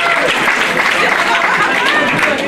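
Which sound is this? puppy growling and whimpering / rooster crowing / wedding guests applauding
wedding guests applauding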